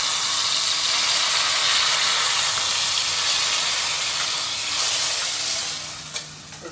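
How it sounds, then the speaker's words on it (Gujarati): Hot oil tempering for sambar sizzles loudly and continuously close up, then eases slightly before a brief clink at the end. "તો અહીંયા એકદમ મસ્ત વઘાર કરી લીધો છે"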